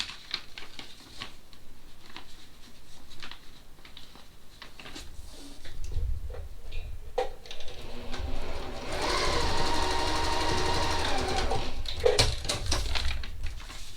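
A sewing machine stitches paper-pieced fabric for a fall mum log cabin mini quilt: quiet handling and brief stitch bursts at first, then a loud, steady whirring run of several seconds, followed by a few short taps.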